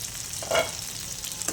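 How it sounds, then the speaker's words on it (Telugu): Tomatoes and green chillies for brinjal chutney soften in a pan over the stove. A soft, steady sizzle carries one brief louder stir. "ఇప్పుడు దీన్ని క్లోజ్ చేసి టమాటాలు సాఫ్ట్గా అయ్యేంత వరకు మగ్గించుకుందాం"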